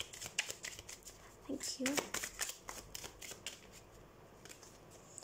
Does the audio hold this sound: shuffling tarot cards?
yes